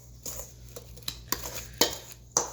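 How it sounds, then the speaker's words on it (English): A spoon scraping and knocking against a bowl while homemade chewy chocolate chip cookie dough is mixed, with irregular clinks and soft stirring scrapes, close by and without speech. "I'm going to mix that with a spoon"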